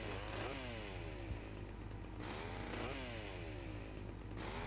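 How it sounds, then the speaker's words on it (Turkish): A chainsaw cuts into a car in GTA Vice City, a loud buzzing engine that rises and falls in repeated revving sweeps over a constant low drone, with no talk. "Testere arabayı keseceğim."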